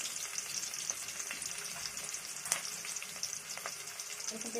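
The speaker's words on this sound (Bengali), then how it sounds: "আমি শাক ভাজি করতেছি" Leafy greens frying in a pan with garlic, onion and chillies: a faint, steady hiss of sizzling oil with scattered crackles and pops, close by, no talking.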